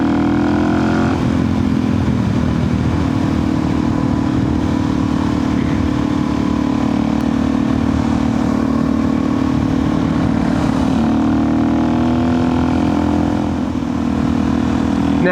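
A Suzuki DRZ 400 supermoto motorcycle accelerating hard from a stop, its loud single-cylinder engine droning steadily close by with rising pitch through gear changes, heavy wind rush behind it, and no talking.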